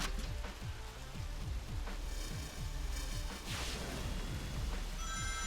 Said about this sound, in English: Oh, now we got rain and everything?